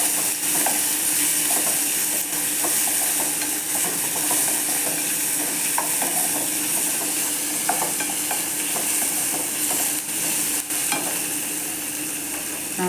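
Food sautéing in a hot pan, a continuous close sizzle and hiss with scraping stir strokes and occasional clinks of a spatula, steady throughout with no talking.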